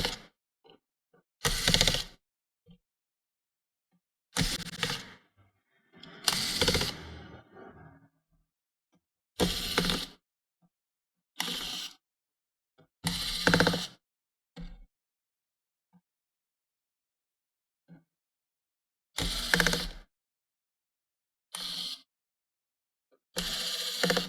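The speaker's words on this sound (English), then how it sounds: "we're gonna start removing all the screws on the top" Screws are taken out of the top of an Acer Aspire One laptop: short, separate bursts of ratcheting, clicking screwdriver work with silent gaps between them.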